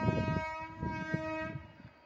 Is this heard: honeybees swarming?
no